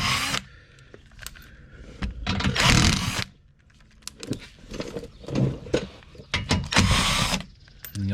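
Metallic clicks, clinks and ratcheting as 10mm bolts are removed from an underbody cover on a 2017 Ford Fusion Sport 2.7L, close and intermittent, with quiet gaps between bursts and no talk.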